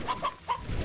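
A few soft clucks from a chicken in the video game Slime Rancher, quiet and brief, over a faint background hum.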